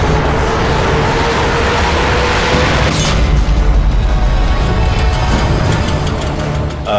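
In the Sniper Elite 3 video game, a vehicle is blown apart by a sniper bullet: a loud, deep explosive boom swells midway through, over a dense rumbling roar of game sound.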